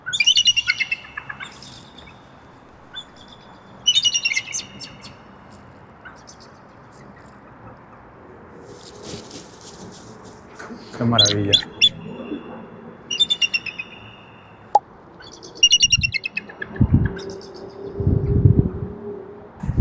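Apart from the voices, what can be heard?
eagles calling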